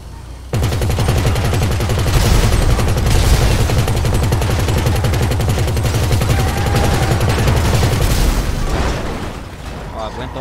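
Sustained heavy gunfire and explosive booms from RPG fire at a car in GTA 5, a loud dense barrage running nearly continuous for several seconds, close and overpowering, with a voice talking.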